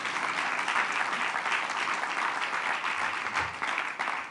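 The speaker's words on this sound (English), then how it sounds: "that's an applause line." Audience applause in the House chamber during a vote on a same-sex marriage bill, dense sustained clapping from a large crowd that stays loud and even throughout, with no speech over it.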